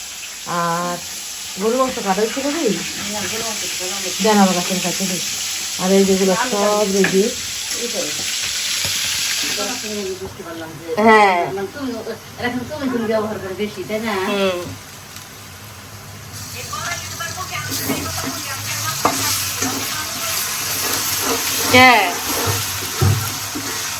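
Golda shrimp sizzle and fry in a pan in a home kitchen while being stirred. The frying hiss runs steadily under frequent talking and lively voices throughout.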